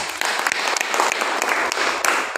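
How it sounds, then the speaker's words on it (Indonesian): Classroom applause from students after a group presentation on helping one another, a dense, steady clatter of many hands filling the room. "Saling membantu, tepuk tangan."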